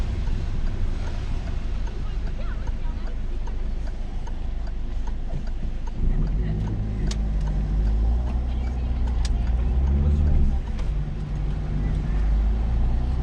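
A car pulling away during a driving test, with a low engine rumble inside the cabin that builds midway as it moves off, and a few faint ticks on top.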